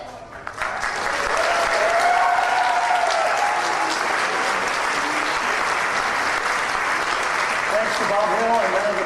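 Applause from a convention fashion-show audience builds quickly and holds steady and dense for a performer, while a few voices sound through the clapping near the end.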